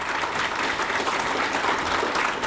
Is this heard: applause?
yes